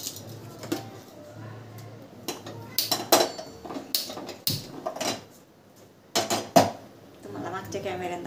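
A metal wok is set on a gas stove with a series of sharp clanks and scrapes in uneven bursts, close and moderately loud, with quiet pauses between.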